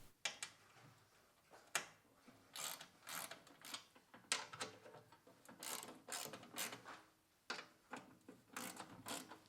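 A ratchet clicks in repeated quick bursts while loosening the 3/8 inch belly pan bolts on a snowblower, close and fairly loud, with short pauses between the runs of pawl clicks and no talking.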